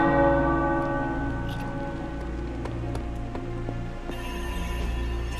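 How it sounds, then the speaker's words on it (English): Bells chime in the video game Marvel's Midnight Suns, a steady ringing with struck notes sounding repeatedly over a sustained resonant hum, with no talk over them. "Bells chiming."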